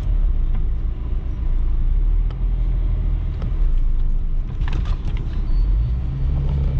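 An SUV rolls slowly along a rough, potholed road past a Honda City, heard from inside as a steady heavy rumble of engine and tyres with occasional knocks and thumps from the suspension.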